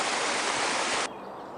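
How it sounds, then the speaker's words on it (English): A pumped waterfall cascading down a small hill beside a reservoir lake, heard as a steady, loud broadband rush of falling water that cuts off abruptly near the end, leaving quieter ambient water noise. "pumped waterfall right in the middle of this little mountain"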